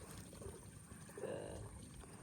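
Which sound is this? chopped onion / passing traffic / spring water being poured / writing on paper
spring water being poured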